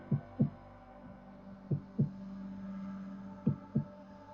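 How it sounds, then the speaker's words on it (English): Heartbeat sound effect in a tabletop role-playing game session: paired low thumps repeating in a slow steady rhythm, three double beats over a soft sustained hum, close and alone with no talk. "you hear you hear your heartbeat"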